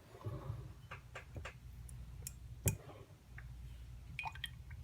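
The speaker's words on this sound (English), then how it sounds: "just took a little bit of water off and then made it wet, just like that" A paintbrush is dipped and dabbed in water beside an acrylic block while working with Zig Clean Color pen ink, giving soft close-up wet clicks, drips and squishy taps at irregular intervals, quiet and without talking.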